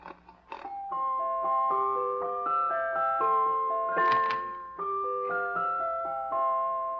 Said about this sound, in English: it's a sort of a jack in the box